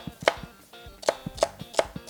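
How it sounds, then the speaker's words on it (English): Knife chopping celery on a cutting board, a handful of crisp, close taps in an uneven quick rhythm, quiet and alone. "Rip a line, and then just finally chop these little guys up."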